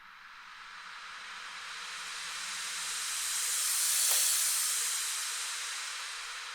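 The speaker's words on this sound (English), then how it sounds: "This is literally this crash, this drum crash flipped around" A drum crash cymbal sample played in reverse makes a steady, airy hiss that swells gradually to a peak and cuts off abruptly with a faint click, then a softer tail continues.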